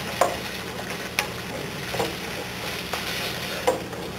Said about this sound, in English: stirring the grains in.